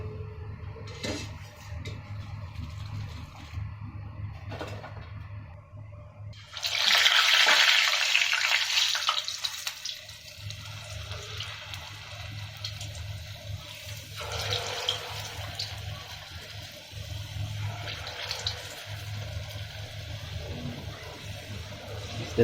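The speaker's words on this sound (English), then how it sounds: "The second round we are frying." Luqaimat, sweet Arabic dumplings of batter, sizzle in hot oil with a continuous soft crackle. A louder hissing burst rises as more batter drops in, then eases back to a steady fry.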